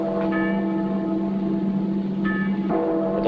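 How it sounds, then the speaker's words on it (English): Bells ring out in a 1955 dramatization of the 1770 Boston Massacre, sounding as fire bells or a street alarm; a steady tolling with two fresh strikes, fairly loud and sustained, with no talking over it. "Are those fire bells, sir?"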